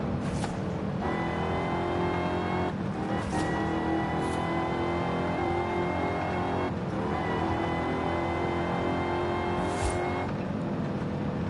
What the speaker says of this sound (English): This car's supercharged, so it's got a lot of power.